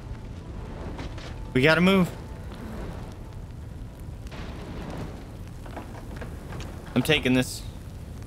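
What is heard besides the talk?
fire burning in the video game Life is Strange 2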